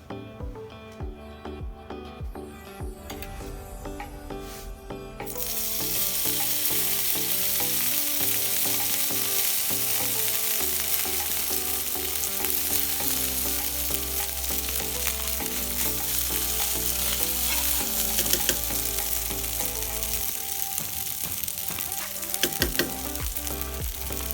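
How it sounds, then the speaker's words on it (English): Cooked rice and garlic hit preheated oil for Costa Rican-style gallo pinto, sparking a loud, steady sizzle that swells after a few seconds and holds with occasional scraping stirs, no talk over it. "So I've got some oil that's been heated up. Now I'm going to add my rice and garlic."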